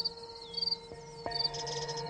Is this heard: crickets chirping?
yes